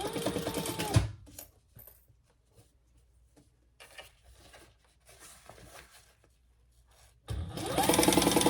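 A sewing machine stitches a crossbody bag in two loud, steady whirring runs at the start and end, with softer fabric handling and clicks in the quieter gap between them.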